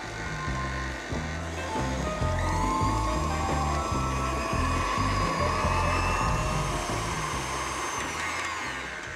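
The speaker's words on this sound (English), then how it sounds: "This is 14 tablespoons of softened salted butter. And I'm just gonna cream this together." Electric mixer creaming softened salted butter, a steady close whirring motor drone with a rhythmic thumping pulse running throughout, no voices.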